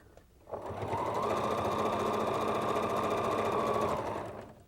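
Sewing machine stitching quilt pieces together, a steady rapid mechanical whirring hum that starts abruptly, runs continuously for about four seconds at close range, then winds down, with no talking.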